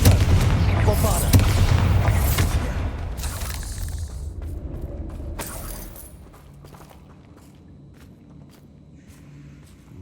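Spell blasts from the Confringo and Bombarda spells in the Hogwarts Legacy video game: loud booming explosive bursts in the first half, then fading to a quieter game ambience with a few softer hits.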